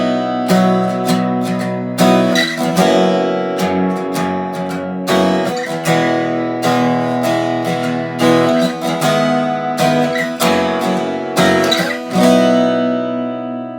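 Guitar plays the opening chords of a song: loud, ringing strummed chords repeated in a steady rhythm, with chord changes every couple of seconds and no voices.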